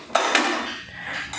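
Steel pressure cooker and drinking glasses being unloaded from an LG 14-place-setting Wi-Fi dishwasher, two sharp metallic clinks close together followed by softer rattling, close by with no talking.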